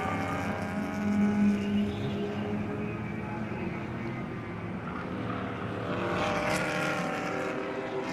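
BMW M4 race cars, including the number 88 of Renegade Racing, run in an endurance race at Circuit of the Americas, their engines giving a steady, layered drone that swells and fades slightly as they pass.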